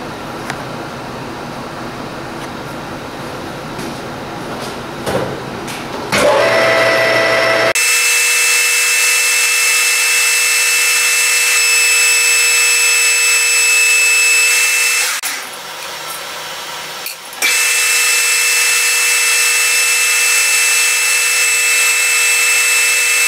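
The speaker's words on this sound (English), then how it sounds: "I'm going to go to 500, 600 RPM. And I'm going to clean this coating off of here." A power tool spinning at about 500 to 600 RPM strips coating off a tube, rising after a few seconds into a loud, steady high whine that briefly drops out midway before resuming.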